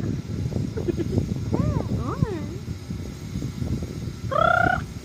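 A voice imitates a chicken with a few rising and falling squawks, then a brighter, higher clucking call near the end, amid a low background rumble and some talking.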